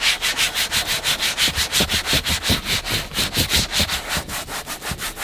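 A hand rubs conditioner into the leather seat of a BMW E39 M5, making steady rhythmic rubbing strokes, close and fairly loud, repeating about every half second with no talk.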